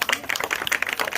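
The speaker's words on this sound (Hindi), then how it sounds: "ताली तो बजा दो।" Clapping from several people, heard as quick, uneven hand claps close by in a short lively burst.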